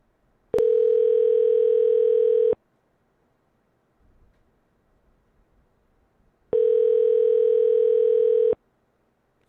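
Two steady telephone tones, each lasting about two seconds and separated by a quiet gap with faint low rumbling, sound before a call is forwarded to voicemail.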